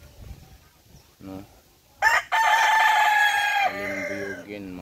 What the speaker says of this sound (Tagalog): isa-isahin natin ang mga alaga natin manok